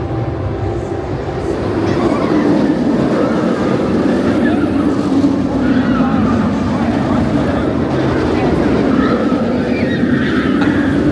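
The Nemesis Inferno roller coaster at Thorpe Park runs its circuit, a loud sustained rumble and roar of the train on its track, with crowd noise and voices under it.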